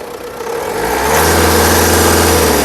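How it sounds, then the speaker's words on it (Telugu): A 2022 Tata Harrier XT Plus engine idles up close, then revs up around the one-second mark and holds a steady, louder roar to the end, with no talking. "ఇంజన్ నాయిస్ చాలా సైలెంట్గా అయితే ఉంది"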